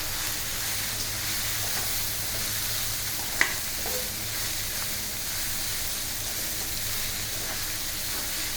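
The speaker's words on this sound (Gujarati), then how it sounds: "હવે આપણે તેને મિક્સ કરીશું." Tangy bateta poha being stirred and mixed in a sizzling pan: a continuous, even hiss of frying close by, with one brief sharp clink of a spoon midway and otherwise little variation.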